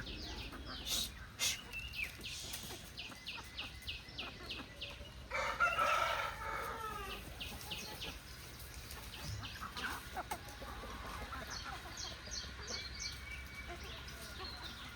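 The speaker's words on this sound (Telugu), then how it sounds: "కోళ్ళు వస్తాండే అబ్బా," Chickens cluck outdoors amid busy bird chirps, with a rooster crowing once partway through; the scene is moderately distant and fairly quiet.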